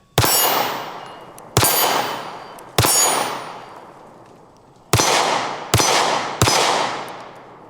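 Six pistol shots ring out at uneven intervals, each a sharp loud crack followed by a long fading ring, with a quick pair of shots near the end.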